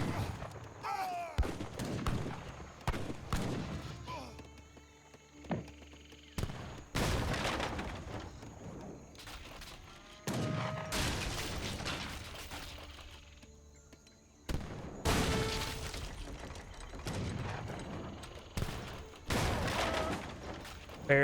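Musket volleys from Carolean infantry in the Age of Empires 3 video game: repeated loud bursts of gunfire in separate salvos spread over about twenty seconds, mixed with battle effects and clanks, with no talking.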